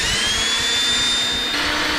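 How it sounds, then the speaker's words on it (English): A power drill with a 1/16-inch bit whines steadily while pre-drilling a hole for mounting a TV on stucco or drywall, loud and close, shifting pitch near the end. "I'm gonna pre-drill this next one here."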